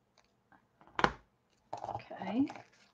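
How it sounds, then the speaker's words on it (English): Scissors snip through fragile book paper to cut out a circle, a few soft close cuts and rustles with quiet pauses between them. "And then I'm just going to cut out a matching circle."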